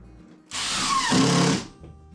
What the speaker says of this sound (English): So we'll put a few screws in this.